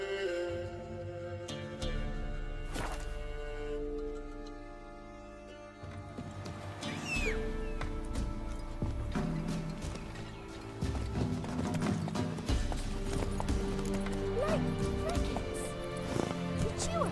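Steady clip-clop of a horse's hooves at a gallop in the video game The Witcher 3, with a brief whinny and game sounds layered over the hoofbeats, loud and continuous throughout.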